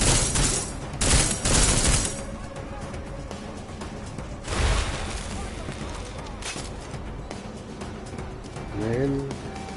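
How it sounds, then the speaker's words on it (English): Gunfire in the video game Deus Ex: Mankind Divided, loud bursts of rapid shots close by, then a further volley amid continuous noisy background, with someone talking over it. "Whoa, who's shooting here?"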